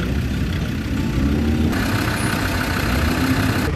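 Engines idle and rumble steadily as classic British vehicles, many of them Land Rovers, roll into an all-British car show in Brisbane, a loud continuous low drone with no talking.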